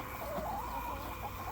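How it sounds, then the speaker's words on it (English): Chickens cluck close by in a garden, making soft, continuous low calls right at ground level with no talk over them. "chickens are always up around my feet,"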